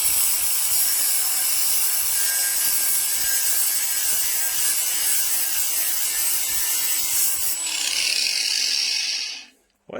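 An angle grinder fitted with a Novoabrasive 125 x 1.0 mm synthetic cutting disc slices steadily through material with a bright, continuous whine and grinding rasp, close up, before winding down and stopping at the end.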